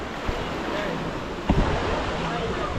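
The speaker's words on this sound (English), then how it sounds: "So this is the beach, this is Dunn River Falls." Surf washing onto the beach beside Dunn's River Falls in Jamaica, a steady close wash with a small splash or bump partway through, heard under faint wind.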